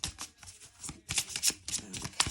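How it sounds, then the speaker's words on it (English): Double-sided oracle cards being shuffled by hand, several quick riffling bursts with short gaps between them, close and fairly soft. "these cards are double-sided, so I'm trying not to look at them too much as I'm shuffling"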